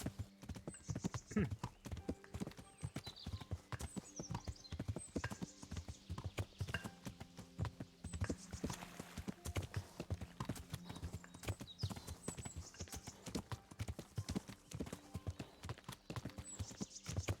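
Steady, rhythmic clip-clop of horse hooves trotting on and on in the video game Kingdom Come: Deliverance, with an occasional faint whinny and light voice in the background.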